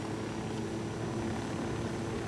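A helicopter in the video game Ghost Recon Wildlands keeps up a steady, loud rotor and engine drone throughout, close and unbroken, with no voices over it.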